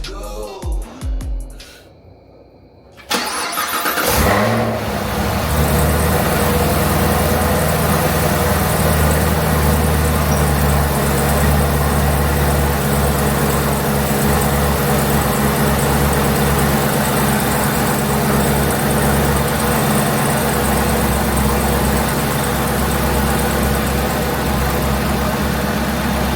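A Chevrolet Camaro ZL1 fitted with a Roto-Fab cold air intake cranks briefly, fires up with a loud surge, then settles into a steady, deep, rumbling idle that continues close and strong.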